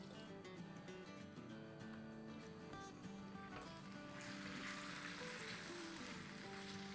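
Bite-size chicken pieces fry in oil with garlic paste, sizzling steadily close by and growing noticeably louder and hissier partway through, with faint music underneath.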